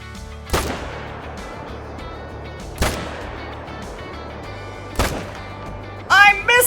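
Three sharp M1 rifle shots in Call of the Wild hunting game, evenly spaced about two seconds apart, each cracking loudly and decaying quickly, followed by a brief voice at the end.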